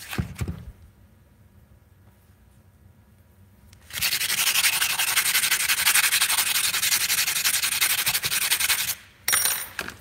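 Metal being hand-sanded on a Predator 212 engine head with a 3M sanding block: a few quiet scrapes, then about five seconds of loud, rapid, continuous rubbing strokes that stop briefly and resume, up close with no talk.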